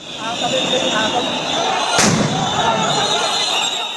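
A sound grenade goes off during a police clash with dismissed BDR members at Kakrail crossing in Dhaka, one sharp, loud blast midway through a steady roar of crowd noise and voices.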